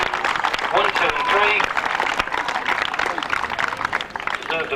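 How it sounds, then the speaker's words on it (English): Crowd applause for the top three at the 1990 British Senior Championship final in Norwich, sustained clapping from a gathered audience with voices mixed in over it. "Deserved applause for them."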